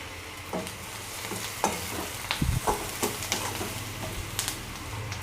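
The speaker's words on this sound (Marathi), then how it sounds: "हे बघा, कांदा एकदम छान भाजलेला आहे" Onion with turmeric fries in a pan, a soft steady sizzle broken by several scraping stirs of a spoon, close and alone without talk.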